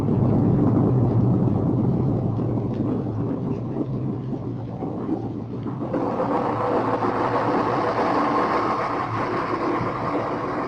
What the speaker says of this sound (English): Submarine blowing ballast tanks.